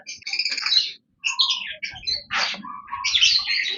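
Pet birds chirp close by in quick bright bursts of tweets and trills, with brief pauses between phrases and no talk.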